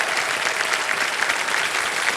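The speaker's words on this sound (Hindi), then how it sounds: "तालियां बज जाए इनके लिए।" Studio audience applause on the Kaun Banega Crorepati season 17 quiz show: a dense, steady wash of many hands clapping, sustained and fairly loud for about two seconds with no talk over it.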